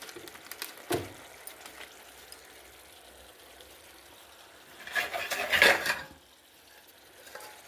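A lid is set over a pan of Bengali tel koi, koi fish cooked in oil with garam masala, giving a faint knock early on and then a louder metallic clatter and scrape near the end, in a quiet kitchen with no talking.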